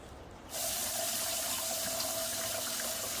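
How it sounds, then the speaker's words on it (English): Tap water gushes steadily into a pot being filled to boil a deer skull, starting abruptly after a brief quiet moment and then running as a constant, close hiss. "While we're waiting for this to fill up, we're going to fill this up just above the skull."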